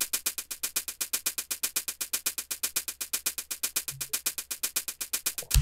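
Synth pumping with sidechain compression keyed from a kick in a deep progressive house track, a steady swingy rhythm of rapid ducking swells, loud and alone with no talk.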